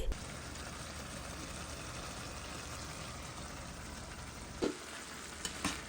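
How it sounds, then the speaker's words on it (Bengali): Chicken pieces frying in a pan, coated in soy sauce, ginger paste, garlic paste and salt, give a steady, close sizzle that runs unbroken, with a couple of brief utensil knocks near the end. "আমি ভালোভাবে মেখে একটু ফ্রাই করে নিচ্ছি"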